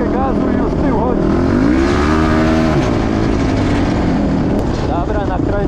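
Honda TRX 450 quad engine revving up and down in loud, close, continuous surges, with the pitch rising and falling throughout.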